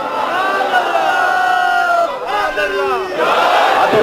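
A crowd at a religious speech gathering in Pakistan answers a preacher's call with loud, roaring slogan shouts, two swelling bursts of massed voices close together, raised in unison.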